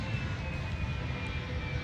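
Steady jet engine roar of a supersonic aircraft in a flight simulator game, a continuous broadband rumble with a faint high whine, held at an even level throughout.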